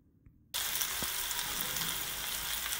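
Chopped onions hit hot oil and butter in a pan and burst into a loud, steady sizzle that starts suddenly and keeps crackling evenly, close up and with no talk.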